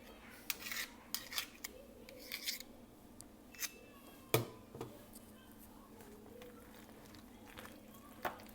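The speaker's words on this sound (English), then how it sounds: "So now we're going to stir it in, y'all." A spoon stirs cheese sauce into macaroni noodles, giving close, irregular scraping clinks and knocks against the pot, with a few sharper hits spaced unevenly under a quiet background.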